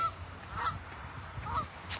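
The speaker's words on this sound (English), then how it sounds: "Geese." Geese honk outdoors out of season, a few scattered calls, fairly distant, over a windy background rumble.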